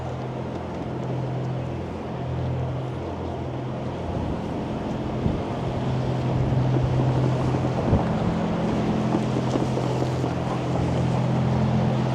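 Cold wind blowing on a Toronto city street on a frosty morning, a continuous broad rush buffeting the microphone with low traffic rumble beneath, steady and fairly loud with no talk.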